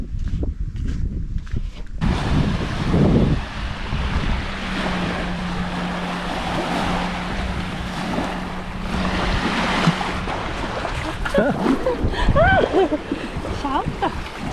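Sea waves and gusting wind on a Baltic beach at Šventoji, a continuous roar of surf with microphone wind buffeting, and people talking over it.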